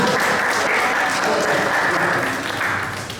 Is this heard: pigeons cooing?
no